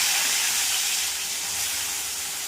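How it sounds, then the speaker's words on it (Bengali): Koi fish frying in hot mustard oil in a wok, a continuous dense hiss of sizzling oil, close and steady, fading slightly over a couple of seconds with no talking. "এবার কড়াইতে মাছগুলো দিয়ে দিচ্ছি একে একে।"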